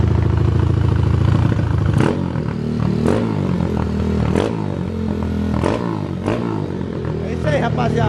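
A cold Honda CB1000 motorcycle idles close by, a low throbbing engine note with uneven rhythm, blipped revs and mechanical clatter as the rpm wavers.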